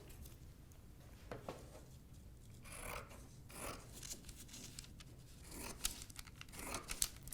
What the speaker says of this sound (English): And I'm cutting along the paper